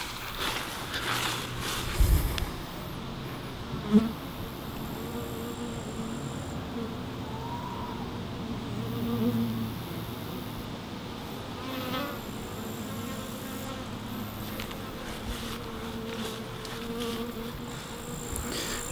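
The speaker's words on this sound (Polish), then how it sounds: "pszczoły noszą pyłek." Honeybees buzz continuously around a hive, carrying pollen, a busy droning hum with occasional individual insects passing close by, outdoors.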